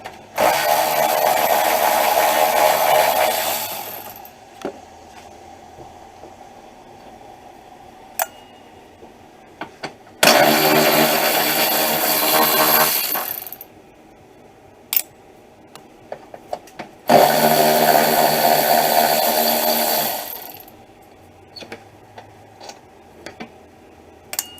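Three long, loud bursts of a whirring power tool back out 10 mm bolts from a 2005 Honda Accord wiper linkage, separated by quiet stretches with scattered metallic clicks and ticks.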